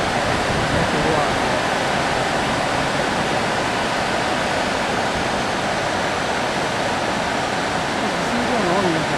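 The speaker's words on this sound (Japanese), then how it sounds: "見た目は小さな川ですけども、人がやりますと大きな川ですし、急流ですね。" The rapids of a small, fast river in the Hisui gorge at Itoigawa roar loud and steady, a dense rushing wash of water close by that fills the whole scene without a break.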